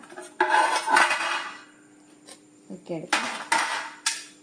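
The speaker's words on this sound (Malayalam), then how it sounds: "ഓരോന്ന് ഇങ്ങനെ നമുക്ക് മുറിച്ച് മുറിച്ചെടുക്കാം" A knife chops through hardened homemade peanut candy in a kitchen, giving a few sharp cracking knocks and clinks in uneven bursts, close and fairly loud, with quiet gaps between cuts.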